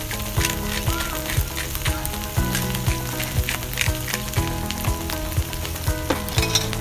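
Fried rice with sesame oil sizzles loudly on a flat griddle. A steady, dense crackle runs throughout, and a spatula scrapes and taps rhythmically on the metal surface.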